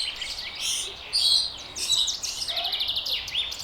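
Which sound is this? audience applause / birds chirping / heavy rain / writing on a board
birds chirping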